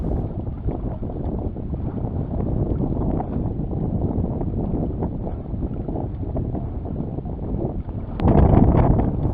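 Wind roaring steadily while sailing under a single reef and number 4 jib, a dense rushing buffet of microphone wind with water noise beneath, swelling louder in a gust near the end.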